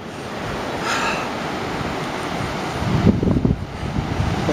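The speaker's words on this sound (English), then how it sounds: "So now we're at the ocean" Ocean surf rolls in at a beach below sand dunes, a steady wash of waves mixed with wind noise on the microphone, growing rougher and louder toward the end, with no talking.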